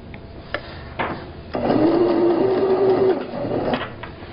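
A sewing machine stitches over a folded seam allowance on a tote bag, a brief steady motor whir lasting under two seconds between a few soft handling knocks, heard close and alone.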